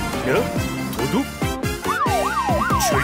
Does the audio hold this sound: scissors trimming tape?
no